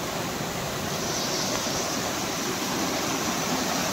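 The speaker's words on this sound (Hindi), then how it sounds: "अभी झील का बहता पानी आपको दिखाएंगे और बाकी आप देख सकते हो पानी चल रहा है" Water flows steadily at a lake, a dense, even hiss and rush heard close and alone without any voices.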